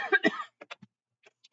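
A person with a lingering cough coughs twice in loud, rough bursts, then makes a few faint, short throat sounds close by.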